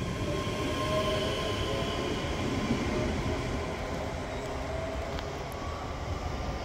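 A Class 385 electric train bound for Edinburgh Waverley rumbles steadily past nearby at Edinburgh Park, a broad continuous roar with faint high whine and a brief metallic squeal, no voices.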